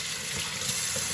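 Running tap water rinsing washroom exhaust fan parts in a sink, a brief steady close splashing rush.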